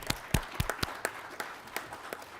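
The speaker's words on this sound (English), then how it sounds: "Let's please give him a great round of applause." An audience at a school board meeting applauds, giving a short run of scattered claps that thin out over a couple of seconds.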